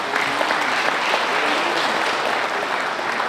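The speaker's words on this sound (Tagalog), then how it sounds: "palakpak naman tayong lahat." Dense, even applause from a large audience at the opening of a national congress of a citizen guard organization, steady and close throughout with no talking.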